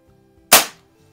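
A single sharp shot from a Barra 1858 CO2 BB repeater revolver, a crisp loud crack that decays quickly, alone against a faint background.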